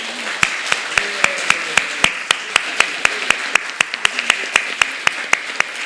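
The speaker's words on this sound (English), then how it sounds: "I think both teams deserve a loud round of applause" A small audience at an academic program claps steadily for a student team presentation. The claps are sparse and evenly spaced, moderately loud, with no voices over them.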